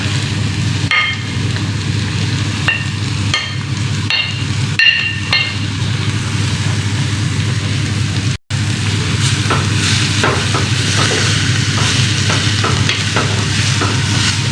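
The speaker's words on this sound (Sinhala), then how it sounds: "දැන් අපි මේකට හදාගත්ත ලීක්ස් ටික එකතු කරගන්නවා." Chopped leeks stir-fried in a pan with mustard seeds give a loud, steady sizzle with scraping and clinking of a utensil, broken by one brief silence midway. Nobody speaks.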